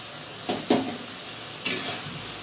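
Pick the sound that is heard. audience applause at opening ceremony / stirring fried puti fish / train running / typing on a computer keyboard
stirring fried puti fish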